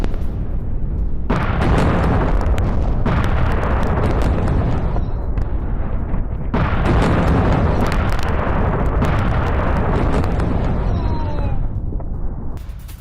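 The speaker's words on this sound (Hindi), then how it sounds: "सेंट्रल इजरायल में मिसाइल अटैक। रिहायशी इलाके में गिरी मिसाइल।" Missile strike aftermath in a residential area of central Israel: a loud, continuous roaring rumble with heavy booming bursts that surge and fade in waves, close and dense throughout, with nothing else audible over it.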